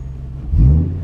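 Ford 6.8-litre V10 engine in a van, a smooth low rumble that swells briefly as it revs, close and steady with no talking.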